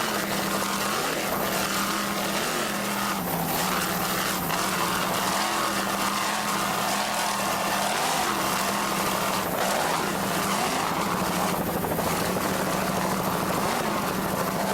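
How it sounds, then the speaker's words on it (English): An offshore racing powerboat in B class runs at full throttle, a loud continuous high-revving engine roar with wavering pitch, sustained throughout. "Let's listen to Curtis Morris at the throttle."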